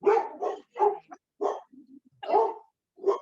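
A dog barks in short repeated bursts, several close yips and bow-wows with brief gaps between them, loud and clear with no talking over it.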